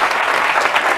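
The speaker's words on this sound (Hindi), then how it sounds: "एक बार जोरदार ताली टाइप से" An audience in a classroom or lecture setting gives a short burst of steady, moderately loud applause.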